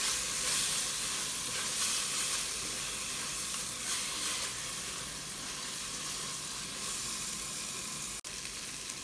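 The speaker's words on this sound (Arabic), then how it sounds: "حط فوق معلقة صلصة طماطم. بقلبهم شغلة 5 دقايق مع بعض." Tomato paste and onion fry in a pot for lentil soup, a steady loud sizzle and hiss with occasional stirring, close up and without talk.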